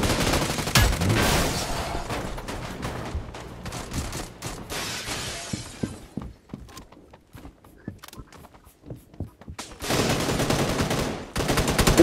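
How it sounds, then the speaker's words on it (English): Automatic gunfire from the mobile battle royale game New State Mobile rattles in loud, dense bursts, thins out into scattered sharp shots midway, then returns as heavy sustained fire at the end. "Let's go, auto fire, shoot through the smoke."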